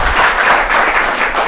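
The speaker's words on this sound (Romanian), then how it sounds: "aplauze" An audience at a talk at Impact Hub Bucharest gives a speaker steady, dense applause, a continuous wash of clapping that holds at an even level from start to finish with no voices over it.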